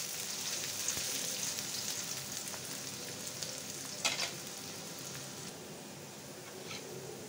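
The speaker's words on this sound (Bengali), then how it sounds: "দিয়ে দেবো রসুন কুচি, রসুন কুচি কম দিছি সামান্য। তেলে লাল লাল করে ভেজে নেব।" Chopped onion and garlic fry in hot oil for a boal fish curry, giving a steady, close sizzle throughout with a brief clatter of stirring partway through.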